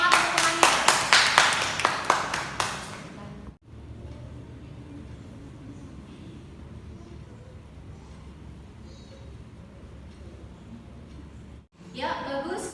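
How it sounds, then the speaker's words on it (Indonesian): Students in a classroom break into brisk rhythmic applause, a burst of close, sharp clapping that dies away after a few seconds into quiet room noise, with another short round at the end. "Beri tepuk tangan dong, semangat teman-temannya."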